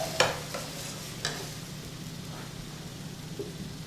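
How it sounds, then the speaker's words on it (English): Beef broth goes into a hot pan for a mushroom gravy for Salisbury steak, giving a steady soft sizzle with a couple of sharp clinks and stirring scrapes near the start. "We're going to make our sauce now. We're going to add our beef broth."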